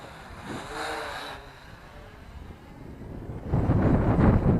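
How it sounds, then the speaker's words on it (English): Outdoor wind buffets a microphone in a steady low roar, easing briefly midway and then gusting harder and louder toward the end. "that wind is really, I'm sure you can hear it in the microphone also"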